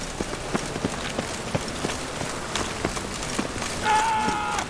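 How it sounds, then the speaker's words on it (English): Steady rain from The Witcher 3 patters on surfaces in a soft, continuous wash, with light footstep-like taps throughout and a brief brighter tone near the end. "Rain again."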